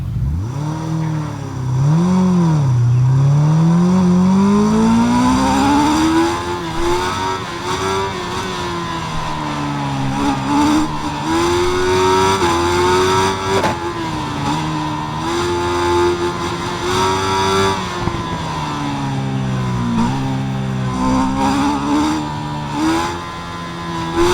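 A 2016 Kawasaki ZX-10R with an SC Project exhaust in RIDE 5, its engine revving up and holding a loud, steady high-pitched drone with shifting pitch as the bike rides on, with no talk.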